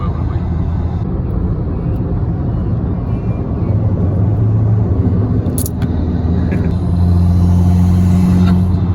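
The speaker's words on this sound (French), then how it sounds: "Oh c'est impressionnant comment le turbo il souffle." A modified car engine with its turbo blowing at a car meet, a loud continuous close-up engine roar and rumble with rising whistling tones near the end and a brief high squeal midway.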